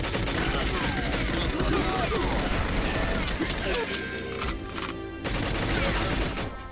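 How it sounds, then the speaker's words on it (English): Rapid bursts of gunfire and crashing impacts from the Nintendo 64 game GoldenEye, loud and continuous through most of the stretch with a brief lull before more shots. "even though all this gunfire is everywhere."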